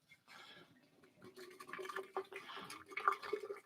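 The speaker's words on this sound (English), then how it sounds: "We're going to do a little bit of a pour." Hot water from a kettle is poured into an ESPRO P5 French press, a soft irregular trickle and splash that builds up over a few seconds, fairly quiet and close.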